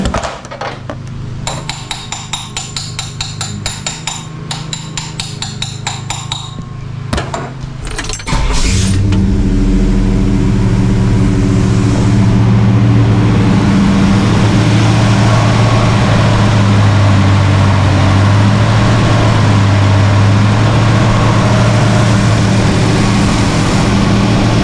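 A Pontiac LeMans engine starting and then running steadily during a fuel pump test, with a few seconds of clanking and tapping first, then a loud, close, continuous engine drone with no talking.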